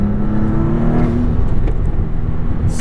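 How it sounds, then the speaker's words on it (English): A 2022 Maserati MC20 accelerating hard, its engine droning loud and close from inside the cabin while a rising turbo whistle builds over the throaty rumble, with no talking. "So much boost noise."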